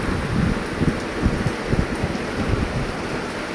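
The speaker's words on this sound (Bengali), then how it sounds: "দারুণ বৃষ্টি হচ্ছে" Heavy rain pouring steadily in Ultadanga, Kolkata, a dense continuous hiss with low rumbling, close and loud with no voices.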